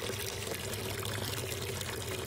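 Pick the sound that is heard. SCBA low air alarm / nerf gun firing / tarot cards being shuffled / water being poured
water being poured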